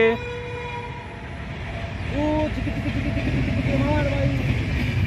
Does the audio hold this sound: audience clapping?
no